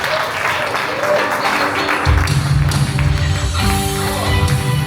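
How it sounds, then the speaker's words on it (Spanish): A church congregation claps loudly, and partway through, music with bass and voices joins in over the continuing applause. "Dale un fuerte aplauso al Señor."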